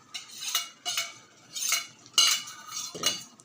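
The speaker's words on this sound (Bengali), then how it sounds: "লেবু রসটা দিয়ে দিলাম দিয়ে একটু নাড়িয়ে নিলাম" A spoon stirs papaya chutney in a pan after lemon juice goes in, five or six close scraping strokes in a loose rhythm, clear and alone with no talking.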